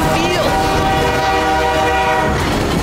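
A train rumbles loudly close by, its horn sounding a sustained chord over the steady roar before fading.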